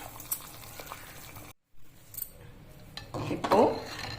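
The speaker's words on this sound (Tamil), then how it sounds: "தண்ணி நல்லா கொதிச்சிச்சுங்க. இப்போ நம்ம எடுத்து வச்சிருந்த அரிசி பருப்பு 2த்தையும் போட்டுடலாங்க." Rice and dal are poured into boiling water in a bronze pot for ven pongal, giving a soft bubbling bed with light metallic clinks and a louder splashing patter near the end.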